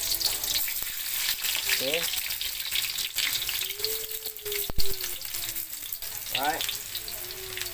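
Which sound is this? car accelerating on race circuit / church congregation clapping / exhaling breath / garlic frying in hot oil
garlic frying in hot oil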